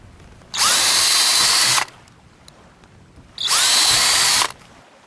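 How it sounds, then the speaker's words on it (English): A power drill bores 13/64-inch holes through a kayak hull for rivets, two loud, steady whining bursts of just over a second each, separated by a quiet gap, close to the listener. "Now we're going to drill 13/64 holes at those locations in preparation of installation of the rivets"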